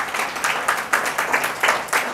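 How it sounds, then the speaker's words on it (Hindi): An audience gives loud applause to welcome students at a coaching session for aspiring school lecturers. The clapping comes in several swelling bursts, each a few tenths of a second apart, with no speech over it. "पुनः एक बार जोरदार तालियों से"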